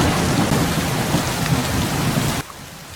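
Heavy rain pours down with low rolling thunder in a thunderstorm, a loud, dense wash of noise that cuts off abruptly near the end into a quieter hiss.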